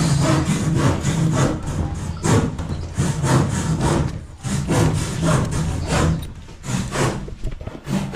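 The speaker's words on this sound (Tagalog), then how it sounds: "Ayan, tatay naglalagari." A hand saw cuts through wood in steady back-and-forth strokes, loud and close, each stroke a rasping scrape, with a brief pause in the middle.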